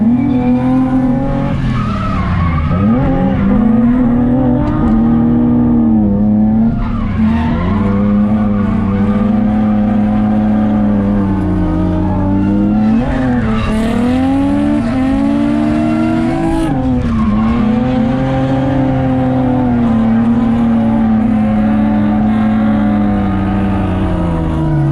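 Loud engines roar and tires squeal continuously as cars, including an E30 BMW, drift in tandem, with revving rising and falling in waves throughout.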